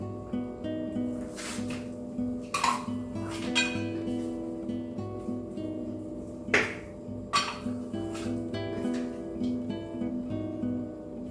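Spoon scraping and knocking against a pot while stiff peanut butter melts and gets stirred, irregular close clinks and scrapes over a steady low background hum.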